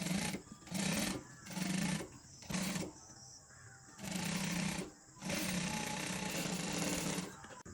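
A sewing machine stitches a saree blouse in several bursts of steady whirring, each run stopping and starting again with short pauses between, close and fairly loud with no talk over it.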